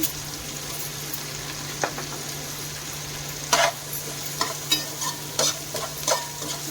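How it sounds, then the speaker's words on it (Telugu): Thinly sliced onion fries in hot oil, a close, steady sizzle with a low hum beneath it. Repeated scraping stir strokes come more often in the second half, with no talking. "ఆయిల్ బాగా వేడెక్కిన తర్వాత ఒక ఉల్లిపాయ సన్నంగా తరిగి పెట్టుకున్న ఉల్లిపాయని వేసుకోవాలి."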